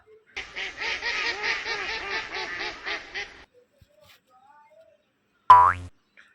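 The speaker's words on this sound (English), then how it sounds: "DUCK" A duck quacks in a quick rhythmic series of loud, close calls for about three seconds, followed by quiet and then a short springy boing effect.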